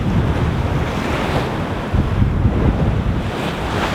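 Sea waves and gusting wind on Blackpool beach, a steady loud wash of surf with wind buffeting the microphone throughout, no voices.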